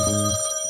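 An isolated payphone booth out in the Mojave Desert rings with a loud, clear electronic bell tone, a single sustained burst heard up close.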